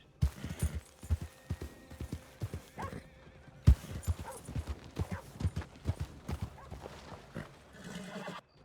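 Horse hooves clip-clop in the video game Red Dead Online in an uneven, brisk rhythm, close and fairly loud, with a whinny breaking in near the middle.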